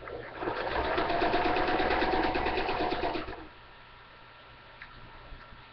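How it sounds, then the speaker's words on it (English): A sewing machine stitching fabric runs in a steady, fast rhythmic whir for about three seconds, then stops, leaving quiet room noise. "I'm going to bring my sewing machine towards me."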